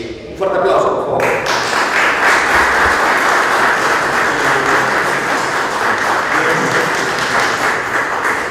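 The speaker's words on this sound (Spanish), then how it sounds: "Un fuerte aplauso, por favor." Sustained audience applause fills a hall at an award ceremony honoring a broadcaster in Peru, dense clapping starting abruptly after a brief moment and continuing loudly throughout.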